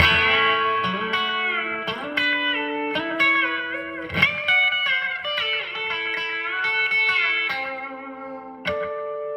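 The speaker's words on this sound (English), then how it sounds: "So we're going to use our bender to do some A licks up the neck," Twangy B-bender electric guitar licks in A up the neck with pedal-steel-style bends, notes pulled up and released in a flowing country phrase, played alone and up close.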